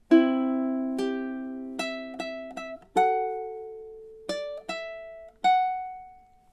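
Measures 29 and 30 of Jimmy Buffett's Margaritaville played on ukulele, a sequence of about ten plucked notes and chord tones in a steady rhythm, bright and near, with no voices.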